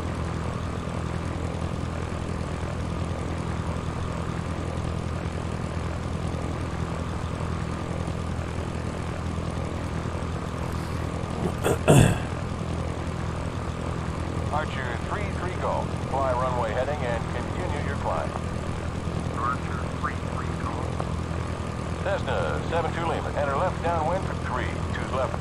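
Cessna propeller plane in the Sierra Pro Pilot flight simulator game, a steady engine drone running throughout with a brief sharp click partway through and radio-style voices chattering over it.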